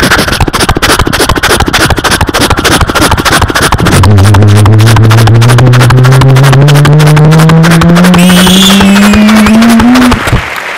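A voice imitates a train, a galloping horse and a car in one continuous run, rapid chugging pulses giving way to a loud rising engine-like drone that climbs in pitch before cutting off.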